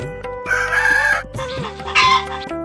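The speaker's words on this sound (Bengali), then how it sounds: "এক মোরগের রূপ ধরে নারদ উচ্চস্বরে ডেকে উঠল" A rooster crows loudly and close by, one long drawn-out call followed by a second rising crow, with faint clucking of fowl around it and no talking.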